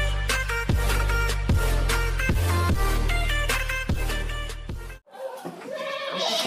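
Goats on a goat farm bleat loudly and close by, several calls in quick succession over a steady drone, with a pause before fainter bleats resume.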